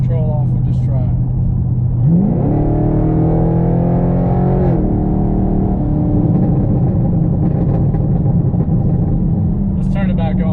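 Car with traction control switched off pulling hard under full throttle on an electric throttle controller, engine note sweeping upward in a loud rising rev, then holding steady before easing, with voices briefly audible at the start and end.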